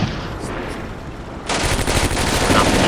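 Rapid gunfire in the World War II game Combat Mission: Barbarossa, a partisan firefight: steady crackling volleys that jump louder and denser halfway through, continuing as a sustained fusillade with no voices.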